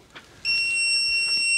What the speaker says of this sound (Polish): Coś tu pika.